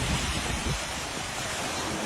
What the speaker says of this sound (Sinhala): මේ හොඳම වතුර පාරක් මේ යන්නේ මෙතනින් එහාට